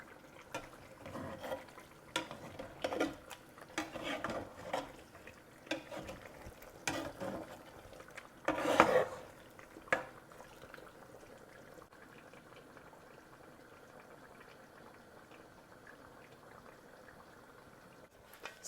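Rice tipped into a pot on top of chicken for biryani, soft rattling pours and scrapes with one louder burst midway, then a quiet simmer.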